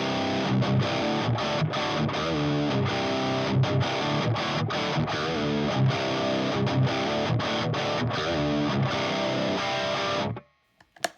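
Electric guitar played through a Friedman overdrive pedal at low gain, giving a crunchy, Marshall-like tone as chords and riffs strum along in a steady rhythm before stopping abruptly near the end.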